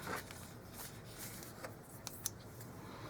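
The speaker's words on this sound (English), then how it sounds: "Then we'll just use our super little scissors" Quiet, scattered snips and soft crisp clicks of small scissors working through paper, with a faint rustle between the cuts.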